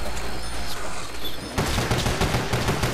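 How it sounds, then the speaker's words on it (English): Rapid pistol fire from Nazi Zombies game combat, a quick string of loud close shots packed densely in the second half after a busy rumbling lead-in. "I'm using my pistol"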